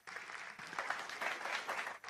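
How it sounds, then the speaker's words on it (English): An audience at a corporate livestreamed event claps in a faint, distant patter of applause, a soft ragged wash of hands lasting a couple of seconds. "I think that 15 years deserves a round of applause"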